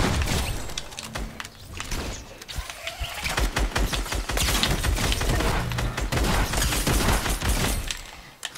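In a battle-royale video game, rapid bursts of gunfire, including a drum gun, crackle loud and near, with dense clattering volleys nearly continuous throughout.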